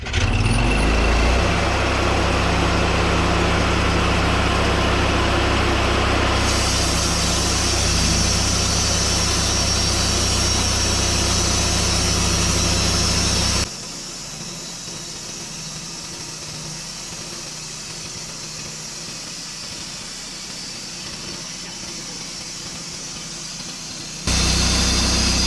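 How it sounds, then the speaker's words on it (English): A sawmill engine idles while warming up, with a loud, steady rumbling drone that drops to a quieter idle partway through and then rises again at the end. "So once it warms up, we're gonna cut it."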